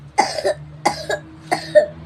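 A young child coughs three times in quick double bursts, close and clear in a quiet room, with a faint steady hum behind.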